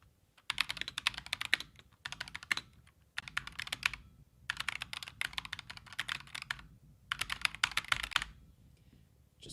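A loud Razer Huntsman TE mechanical keyboard is typed on in fast bursts of clacking keystrokes with pinging and rattling, separated by short pauses.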